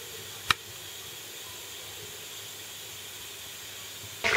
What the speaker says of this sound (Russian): Обжариваем котлеты с обеих сторон.